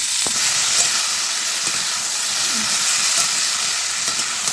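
Fish frying in a pan for papaya ghonto, a loud, close, unbroken hissing sizzle with a few faint knocks and scrapes of a utensil mixed in; no voices.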